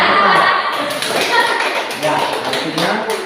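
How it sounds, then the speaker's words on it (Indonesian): Children in a classroom play a clapping game, their hands striking in short, sharp, near group claps on cue, with an adult voice talking between the claps. "Kalau Pak bilang satu, tepuk satu, tepuk dua, satu."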